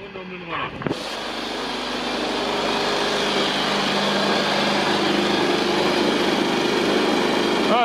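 A Kymco Super8 4T scooter's small four-stroke engine catches after a brief rattle and settles into a steady, buzzing raised idle, close and continuous throughout.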